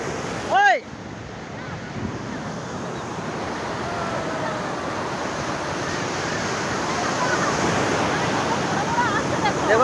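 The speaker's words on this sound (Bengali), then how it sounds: "দেখো এই ঢেউগুলো দেখো," Surf rolling in at Marina Beach in Chennai, a steady broad wash of breaking ocean waves with wind buffeting the microphone, continuous and slowly building, after a brief sharp sound near the start.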